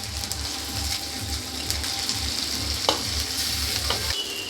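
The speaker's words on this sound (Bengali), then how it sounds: "এটাকে ভালো করে নাড়াচাড়া করে নেব।" Ridge gourd curry sizzling and frying in a pan with turmeric, ginger paste and chili paste as it is stirred, a steady close crackling hiss with a few louder scrapes, no talking.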